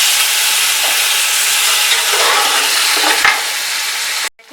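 Mutton with spices sautéing in a pot for yakhni pulao, a loud, close, steady sizzle and hiss with a few stirring knocks, ending abruptly.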